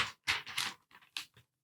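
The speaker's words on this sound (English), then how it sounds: "actual page turning, that is not a sound effect" A few quiet, crisp rustles and soft paper swishes, close and faint, come as a book page is turned. There are brief pauses between the bursts.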